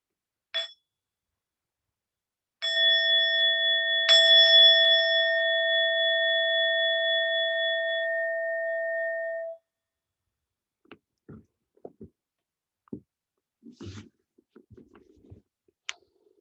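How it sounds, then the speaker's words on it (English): A meditation bell rung to close a meditation session, several soft strikes then one clear sustained ring with bright overtones that fades slowly over several seconds, followed by quiet rustles and small movements. "with the sound of the bell, we'll bring this meditation to an end"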